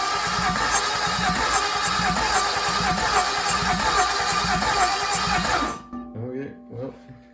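Starter cranking over an LS-swapped 1985 Camaro, a dense, steady chugging rhythm that runs loud for several seconds, then cuts off abruptly, leaving a quieter garage with a voice speaking.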